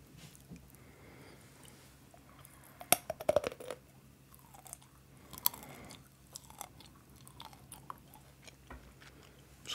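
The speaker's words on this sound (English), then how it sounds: "And here's the crunch test of the almond." Crunching of almonds being bitten and chewed close to the mic in a quiet setting, with a cluster of sharp cracks early on, then softer intermittent chewing crunches.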